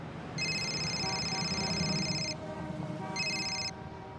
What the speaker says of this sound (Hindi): फोन बज रहा है तुम्हारा, उठाओ।